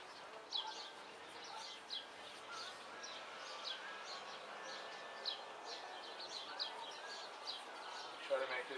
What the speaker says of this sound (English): that's why you hear birds and stuff